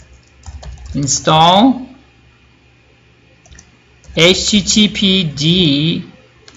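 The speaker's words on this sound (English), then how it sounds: "Now let's see if I type this again. If I type this, it should probably run it. I'm going to retype this." Keys clack on a computer keyboard as a command is typed, in sparse bursts of clicks, while someone speaks loudly and close over them.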